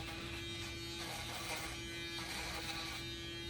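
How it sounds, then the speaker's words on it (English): An electric shaver buzzes steadily and close at hand as hair is shaved in a barber lesson, a constant tonal hum with no talk over it. "I would come in with my shaver, and I'm gonna shave it"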